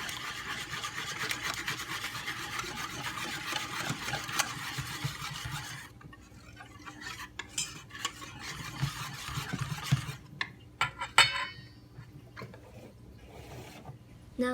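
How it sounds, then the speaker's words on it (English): Crepe batter gets mixed in a bowl, a continuous scraping, rubbing stir that later breaks into irregular taps and clinks of utensil against the bowl, close and fairly loud. "Mix again well."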